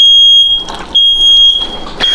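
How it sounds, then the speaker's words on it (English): A smoke alarm set off by overheated cooking oil smoke gives loud, piercing high beeps close by in a home kitchen, sounding in three bursts with short gaps between them. "That is the fire alarm"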